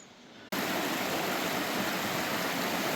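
A creek rushing through Murray Canyon near Seven Sisters Falls in the Agua Caliente Indian Canyons, a quieter moment giving way abruptly to a loud, steady, close wash of flowing water.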